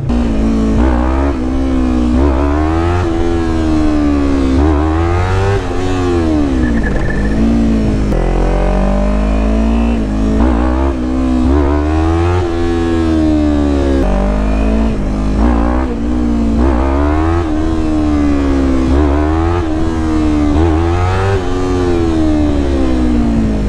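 A Yamaha R3 motorcycle engine revs loud and close during wheelie practice, its pitch climbing and falling over and over as the throttle is opened and eased off.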